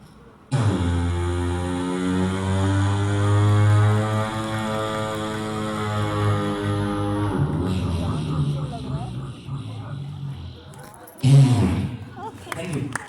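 A person imitates a steamer ship at sea with the voice, a loud, long, droning horn-like hum that holds steady for several seconds, then breaks into sputtering, rattling mouth noises as if the engine runs out of fuel.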